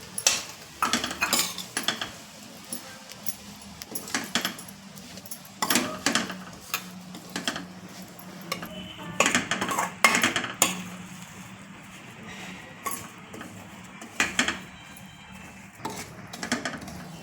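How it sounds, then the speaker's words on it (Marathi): Fenugreek seeds roasting and being stirred in ghee in a pan, heard as irregular metallic scrapes and clinks of a spoon against the pan, in bursts with quiet gaps between, up close and with no talking. "आता ही मेथी मी तुपावर परतवून घेत आहे।"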